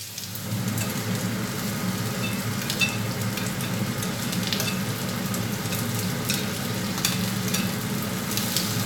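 Onion fries in a pot for a glögg pork stew, giving a dense, even sizzle that holds steady and close for the whole stretch, with faint clicks scattered through it.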